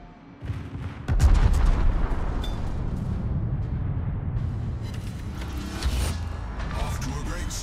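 Ship cannons firing in a naval video game, with a sharp boom followed by heavy rumbling blasts and sustained low roar over a steady bed of battle noise.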